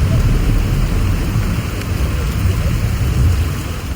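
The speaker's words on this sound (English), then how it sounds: "The moment we arrived, the rain came down, and it came down hard." Heavy rain and a thunderstorm beside a lake in Kyrgyzstan: a steady, loud broadband downpour with deep rolling rumble underneath, continuous for the whole stretch with no voices.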